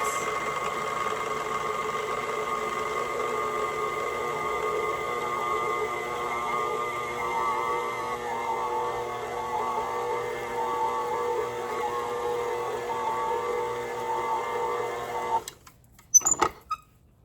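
A KitchenAid stand mixer whirs steadily as it beats thick coffee cake batter, a close, even motor hum with a rhythmic churning that stops abruptly near the end, followed by a few clunks.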